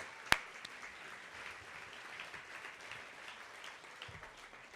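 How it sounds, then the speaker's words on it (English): An audience at a charity awards event claps steadily in a soft, distant spread of applause, with one sharp close clap or knock at the very start. "Let's give them a round of applause."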